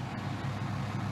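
Twin 550-horsepower 8.3-liter engines drive a 20-ton boat up river rapids, a steady deep low rumble that is loud and continuous over the brief moment.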